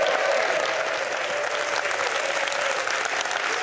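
Steady, dense applause from a cabaret audience greeting a guest comedian on stage, continuous and full throughout with no pauses or voices standing out.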